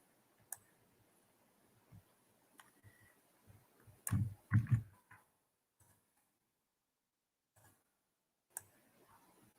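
Several isolated computer mouse clicks at a desk, sparse and fairly quiet, with a cluster of louder clicks near the middle and long silent gaps between.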